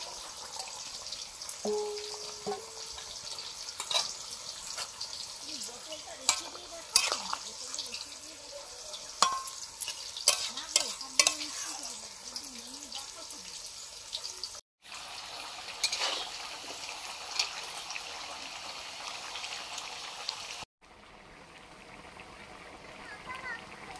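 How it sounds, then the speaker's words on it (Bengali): Fried amudi fish being added to a simmering curry with salt and a little turmeric, then stirred in the pan, making scraping and bubbling sounds under intermittent speech. "সামান্য হলুদ, ভেজে রাখা আমুদি মাছগুলো দিয়ে দিচ্ছি।"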